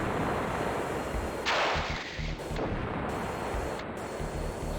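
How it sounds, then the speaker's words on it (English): A bomb blast in the Fighters Anthology flight combat video game, a loud rumbling explosion that booms in and rolls on amid roaring, noisy cockpit and engine sound, with no talking. "we took a little blast back from our bomb"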